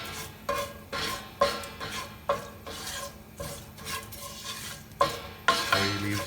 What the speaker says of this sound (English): we put the curry leaves to get the flavor in the same pan